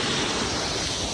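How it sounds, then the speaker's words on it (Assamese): A waterfall pours steadily during a trip in Longding, heard as a brief dense rushing wash of water without any talk. "এটা ৱাটাৰফল দেখিছোঁ, এইটো ধুনীয়া লাগিছে।"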